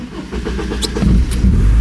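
A Porsche 944 S2 Cabriolet starts in neutral without the clutch pressed: a short starter crank, then the engine catches with a loud, close rumble and settles into a rough idle.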